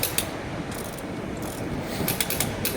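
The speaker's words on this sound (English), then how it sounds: "just tightening up the nuts here on the wheel" Torque wrench ratcheting as nuts are tightened on a Tesla Model 3 wheel, a series of close, quick mechanical clicks in short bursts over a steady background hum.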